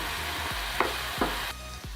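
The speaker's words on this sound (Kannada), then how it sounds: "ಇದನ್ನು 2 ನಿಮಿಷ ಐ ಫ್ಲೇಮ್ನಲ್ಲಿ ಅಂದರೆ ಮಧ್ಯಮ ಉರಿಯಲ್ಲಿ ನಾವು ಇದನ್ನು ಬೇಯಿಸ್ಕೋಬೇಕಾಗುತ್ತೆ" A paste of onion and tomato for chicken fry sizzles steadily in a pan over a medium flame, with a few soft scrapes of stirring heard up close and no voices.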